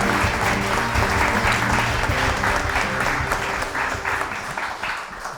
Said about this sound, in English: Let's have a round of applause for Today.